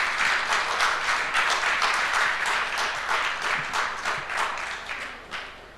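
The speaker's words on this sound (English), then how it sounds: "we should all clap that we made it happen" An audience at a family business entrepreneurs session claps together in sustained applause, a thick even roar of hands that holds steady and then slowly fades toward the end.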